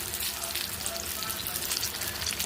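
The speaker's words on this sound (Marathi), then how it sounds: "आपण आता अशी पूर्ण अशी भजी तळून घेऊ" Drumstick pod fritters (bhaji) deep-frying in hot oil over a medium flame, a steady, dense sizzle and bubbling that holds evenly from start to finish with no talk.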